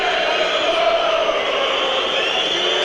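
Football crowd at Burnley v Aberdeen in 2018, a steady wall of stadium noise with disgruntled murmuring and groaning sustained throughout, no distinct cheers.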